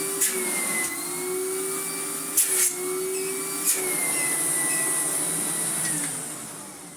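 An AEG Compact Electronic 406 vacuum cleaner with dry motor bearings runs steadily and loudly with a constant whining motor hum and a high hiss, broken by a few brief knocks and rattles, with no talk.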